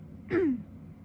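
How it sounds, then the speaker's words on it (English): A single short throat clear from someone with allergies, a brief rough vocal burst close to the mic in a quiet room, followed by silence. "Keep having to clear my throat because of allergies."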